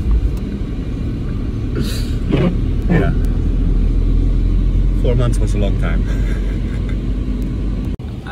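A Dutch car drives along, its engine and road rumble forming a loud, continuous low drone under a voice.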